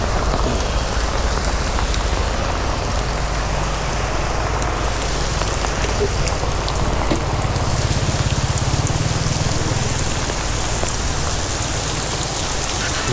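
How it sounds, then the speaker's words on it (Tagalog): Heavy rain pours steadily onto surfaces at a roadside eatery in the Socorro mountains, a dense, continuous roar with constant loudness and no voices throughout. "Grabe, lakas ng ulan."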